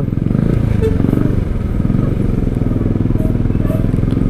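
Yamaha R15 v2 motorcycle with a standard electrical system idling close by, a steady rapid engine putter throughout with faint clatter.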